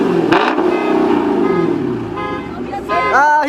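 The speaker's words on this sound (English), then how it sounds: "tell me when you want me to rev it" A Dodge Charger's engine roars up close at a packed car meet, holding a steady drone. A car alarm starts whooping near the end while people talk.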